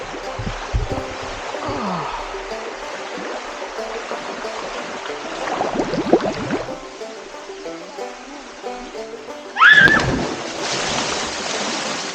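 Water splashing and rushing at a hot spring waterfall in a Fijian rainforest, a steady stream-like wash with a few closer bursts of splashing, and a sharper splash near the end.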